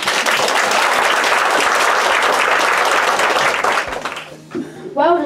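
Applause from a primary-school musical audience fills the room in a dense, steady roar of clapping, then thins out as voices and a child's call break through at the end.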